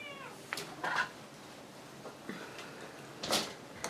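A house cat meowing indoors, a few short separate meows spread across the moment with quiet room tone between them, fairly faint and with no voices.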